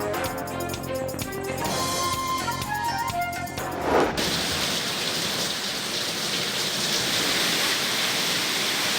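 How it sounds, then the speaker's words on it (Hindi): Heavy rain mixed with hail pouring down in Karachi, a dense, loud, steady roar that takes over after a few seconds of music and continues alone to the end. "कराची के मुख्तलिफ इलाकों में बारिश के साथ ओले भी पड़े"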